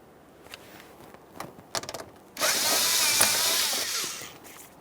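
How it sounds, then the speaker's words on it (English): Turning a screwdriver to loosen a hose clamp on the fuel pressure regulator of a 1999-2006 Chevrolet Silverado 1500 4.3L V6, with a few close metallic clicks and taps followed by a sustained harsh grinding whir. "we'll be loosening this clamp with an 8mm or flathead screwdriver"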